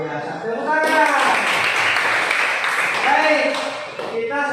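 Classroom audience at a university teacher-training session breaks into applause, a dense sustained wash of clapping lasting a few seconds with voices before and after.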